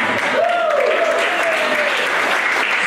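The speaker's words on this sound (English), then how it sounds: "Statistically, too many of you are applauding" A comedy club audience applauds steadily throughout, a close, dense clapping wash with a short whoop or cheer rising above it.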